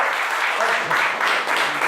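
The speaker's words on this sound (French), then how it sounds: "On peut l'applaudir." A debate audience claps in a steady, dense burst of applause, loud and continuous throughout.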